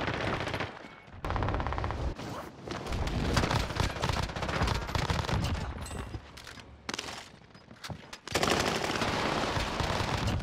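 Rapid bursts of Armaguerra 43 submachine gun fire in Call of Duty Warzone on Rebirth Island, loud, dense, sustained volleys with brief gaps, layered with other gunfire and impacts.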